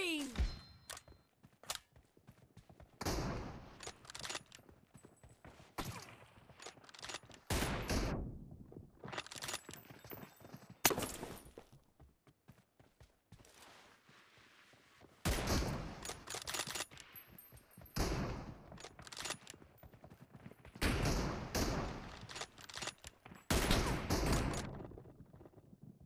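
Gunfire in BGMI/PUBG mobile, including an M24 sniper rifle, comes as repeated sharp bursts and single shots spread across the stretch, loud and close, with quieter gaps between volleys.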